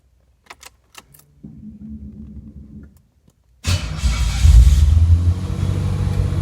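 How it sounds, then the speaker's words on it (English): A car engine cranks and catches at about 3.7 seconds in a garage during setup of a Dakota Digital gauge cluster, then settles into a loud, steady idle. Faint clicks and a low electrical hum come before the start. "we're going to go ahead and now start the car"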